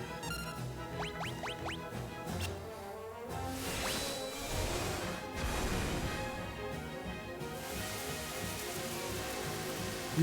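A dense, hissing wash of the Acid Rain spell from Final Fantasy VI, with whooshing swells and scattered splashy hits, layered over busy game audio and rising chimes.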